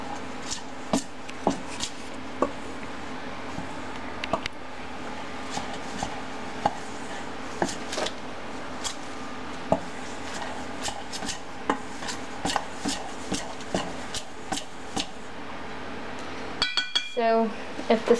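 A spoon working through a stiff peanut butter ball mixture with not-quite-soft butter in a bowl, giving repeated clinks, knocks and scrapes against the bowl with a rapid rattling burst near the end.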